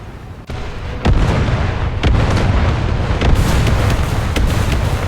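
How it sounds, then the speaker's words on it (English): Rockets fired and explosions hitting an armored target in the tank combat game War Thunder, a run of loud close booms and sharp bursts over a constant rumbling roar, with several distinct heavy impacts. "I've fired multiple bloody rockets into it and it just doesn't do anything."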